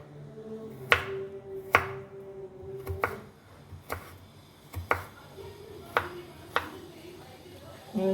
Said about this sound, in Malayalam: ഇനി നമുക്കിത് അരിഞ്ഞെടുക്കാം